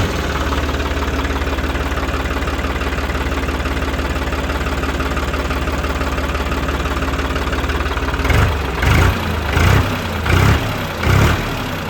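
A used New Holland 55 hp tractor engine idles loud and close with a steady diesel chug, then gives a few rhythmic revving surges near the end, with no one speaking.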